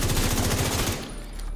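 Lexington light machine gun firing in The Division 2, a loud, rapid, steady stream of shots in close succession that stops abruptly near the end, leaving a low rumble.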